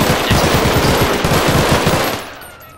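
Rapid, loud automatic gunfire from a shooter video game pounds in a steady rattling stream for about two seconds before cutting off into a fading tail.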